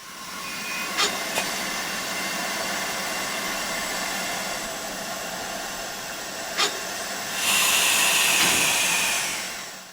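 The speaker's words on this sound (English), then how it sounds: "vacuum brake ejectors" A steam locomotive's vacuum brake ejector in a railway simulator game, a continuous loud hiss with a couple of brief clicks, then a brighter, louder rush of steam near the end, with no voices.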